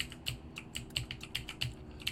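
Quick, light keystrokes on a computer keyboard at close range, an irregular run of crisp clicks about every quarter second, with no talk, used to steer a bus in Bus Driver Simulator 2018.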